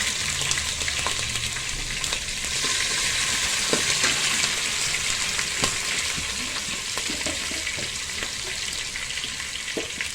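Slit green chillies crackle in hot oil with mustard seeds while making makka jonnala gudalu, a dense, continuous sizzle with scattered sharp pops and spits, close and loud with no talking.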